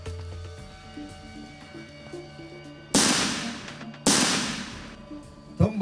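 Two sharp, loud explosive blasts about a second apart during military explosives training, each with a broad burst and short decaying tail over quiet background activity.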